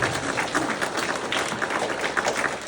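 Steady, fairly close clapping fills a Legion Hall at a stand-up comedy show, an audience applauding without pause and with no voices over it.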